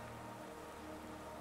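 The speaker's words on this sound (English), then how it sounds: "I have not found a specific source of the rain." Rain falling inside the Hollow Knight game world, a faint, steady, hissing wash of water with no distinct drops and no voices.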